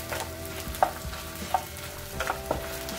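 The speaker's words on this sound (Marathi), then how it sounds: "आता आपण त्यामध्ये थोडे थोडे डिंक टाकायचं आहे। डिंक चांगला तुपामध्ये फुलू द्यायचा" Edible gum (dink) frying and puffing in hot ghee for ladoos: a steady soft sizzle with a few sharp pops and crackles scattered through, close and fairly quiet.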